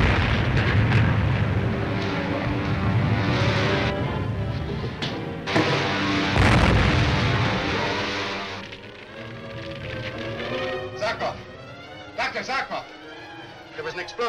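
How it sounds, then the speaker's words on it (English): A bomb from a Ming bomber explodes over a palace, a loud broadband rumbling blast that swells and lingers for several seconds, then fades under tense voices speaking. "There was an explosion."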